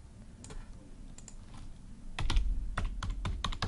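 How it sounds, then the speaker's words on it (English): Fingers type a password on a computer keyboard nearby: scattered soft key clicks at first, then a quicker, louder run of taps with no voices. "You can type whatever you want into there"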